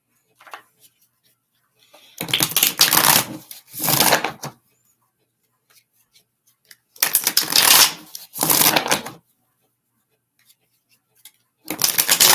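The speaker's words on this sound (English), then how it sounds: "I'm going to go ahead and shuffle." Tarot cards being shuffled in three separate bursts of riffling and shuffling, close and crisp, separated by quiet pauses.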